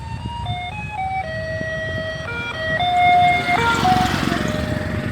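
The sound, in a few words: bread delivery vehicle playing a Beethoven tune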